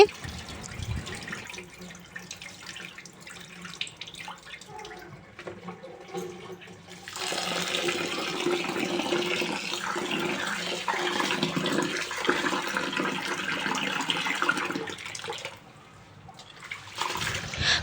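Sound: washing rice and pouring out water

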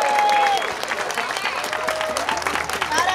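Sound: audience applause at a prize draw

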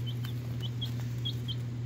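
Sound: Leghorn chicks peeping

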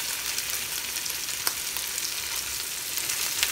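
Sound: red snapper fish frying in a pan

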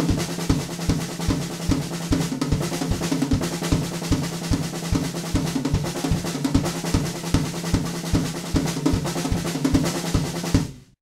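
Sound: drum kit playing a song's beat

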